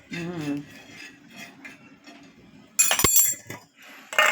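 A lid goes onto a pickle jar with a sharp glassy clink and some brief scraping, close up, after a short bit of voice at the start.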